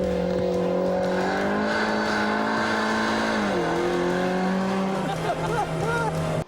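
A Vauxhall car rated at 200 brake horsepower revs hard with a loud, steady engine drone that dips in pitch partway through, as if shifting gear, then climbs again, close and continuous.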